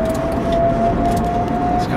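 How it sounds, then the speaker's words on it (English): A Delta E4 Coupe's electric drivetrain gives a thin, steady whine over continuous road and cabin rumble while driving. "I think I'm now developing an ear for electric drive trains, you know. Not entirely silent, are they?"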